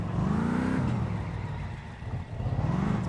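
A car engine in the video game My Summer Car revs while drifting, a continuous engine drone that rises, falls and swells again in pitch, with tire-like whirring underneath and no talking.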